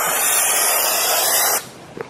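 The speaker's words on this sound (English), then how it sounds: "we're going to spray" An aerosol can sprays white lithium grease onto the nylon slide block inside a four-post car lift post, making a loud, close, steady hiss that cuts off abruptly after about a second and a half.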